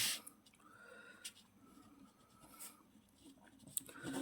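A pen or marker writes out a maths equation in faint, close scratching strokes. The strokes come in short irregular bursts with small taps between them, and the room is otherwise quiet.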